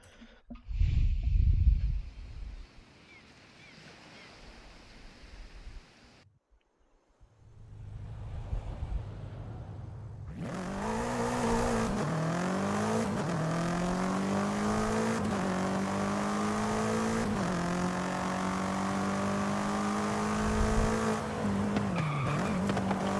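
A BMW M5 Competition saloon (F90) in Forza Horizon 5 revs up and drives off, its engine note climbing through gears steadily and loudly after a quieter menu-like lead-in, with tire noise; no talking.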